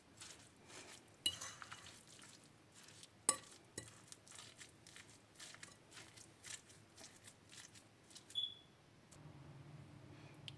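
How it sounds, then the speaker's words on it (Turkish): Cauliflower köfte ingredients, including flour and breadcrumbs, are mixed by hand in a bowl. It sounds quiet and close: soft, uneven squishing and scraping, with scattered small clinks and taps. "Bütün malzemelerimizi iyice karıştırıyoruz."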